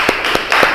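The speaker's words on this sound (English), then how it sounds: "Round of applause for that." A round of applause from a small audience at a motivational talk, a few loud distinct claps followed by a brief burst of clapping, close and short.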